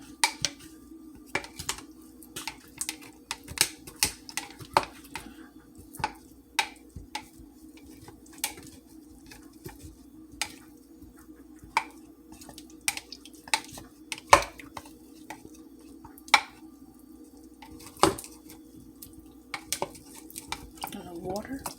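Pot roast is stirred in a cooking pot in a scattered run of soft clinks, scrapes and wet splashes, with a steady background hum and quiet, close-up handling throughout.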